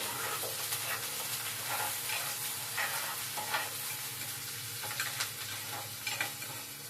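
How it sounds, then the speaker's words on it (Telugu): Onions fry in a pan with a constant bright sizzle and crackle, punctuated by scraping stirs of a spoon at intervals, the hiss steady and fairly quiet throughout. "ఎర్రగడ్డలు ఎర్రగడ్డలు వేగాలండి."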